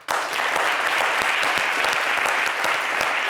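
Studio audience on a French-language talk show breaks into sustained applause that starts abruptly and stays loud, dense and even throughout.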